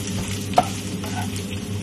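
Egg is stir-fried into fried rice in a hot pan, a continuous soft sizzle with light scraping stirs and one sharp clink of the utensil.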